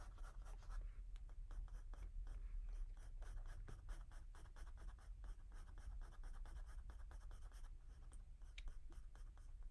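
Pen scratching steadily across paper while drawing, a close, continuous rasp of quick strokes with no talking.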